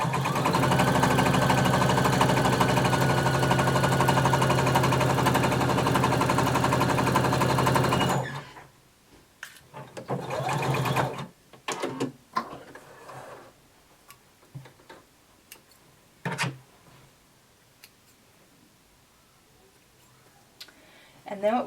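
A sewing machine stitches a skirt seam from dot to dot, running in a fast steady mechanical chatter for about eight seconds, then stopping; afterward a person talks over faint handling clicks.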